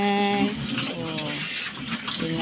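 Water is poured while a pig pen is cleaned on a provincial farm, a steady splashing, running flow close by, with someone talking over it.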